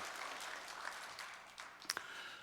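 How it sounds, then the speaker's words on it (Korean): Brief burst of applause from a church congregation during a Sunday service, hands clapping together in a dense wash, fairly quiet and fading out within a couple of seconds. "우리 찬양 받으신 주님께 크게 영광의 박수"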